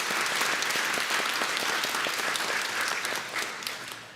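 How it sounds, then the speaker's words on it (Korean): Church congregation claps together at a Sunday worship service in a reverberant sanctuary, a dense, steady burst of hand claps filling the room throughout with no talking over it. "우리 다시 한번 하나님께 영광하면서 박수하겠습니다"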